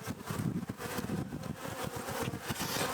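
Honey bees buzz continuously around a hive in Nebraska, a dense close swarm hum with individual insects droning in and out near the listener.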